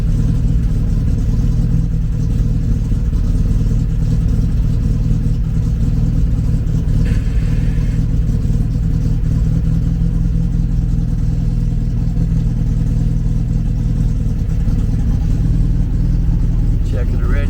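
A car engine idles steadily through a cold-start warm-up, running rough with a constant low rumble close by and a brief higher whine midway.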